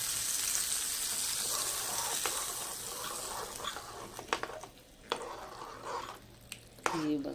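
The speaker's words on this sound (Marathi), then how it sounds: "हा तडका या चटणीवर घालून मिक्स करून घ्यायचा आहे।" Hot tempering of cumin, curry leaves and a red chilli poured over idli chutney, giving a steady bright sizzle that settles into quieter crackles and a few stirring clicks near the end.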